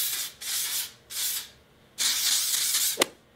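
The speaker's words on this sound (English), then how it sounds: "I'm gonna go in with Aveda's Control Force hairspray." Aveda Control Force hairspray goes onto a styled blunt bob in three separate hissing bursts, the last one longer, each a close, breathy spray with brief quiet gaps between them and no talking.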